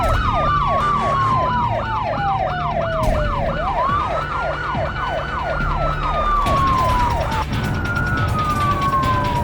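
A police car siren wails loud and close during a crash-filled chase in the driving game BeamNG Drive, cycling through fast yelp sweeps and slower rising-falling wails, then shifting pattern near the end.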